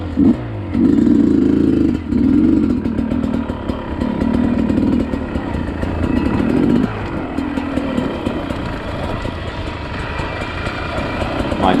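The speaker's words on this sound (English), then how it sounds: "double blipping the throttle and getting, extra grunt from the engine at a time when you really need it, when it gets steep" A trials motorcycle engine revs and grunts hard with repeated throttle blips as it climbs steep badlands terrain, loud and close throughout with a brief dip partway through and no talking.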